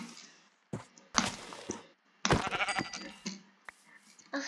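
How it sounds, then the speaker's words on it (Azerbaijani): Blocky Minecraft goat bleats in short bursts with game sound effects around them, moderately loud and close, with a few gaps between calls. "Keçi var, bas."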